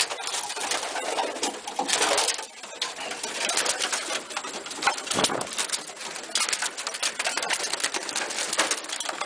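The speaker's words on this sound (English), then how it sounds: "These birds in the aviary are seeing the ones outside flying around now" Several racing pigeons in an aviary coo steadily at close range, soft throaty calls overlapping, with a few brief wing flutters and no talking.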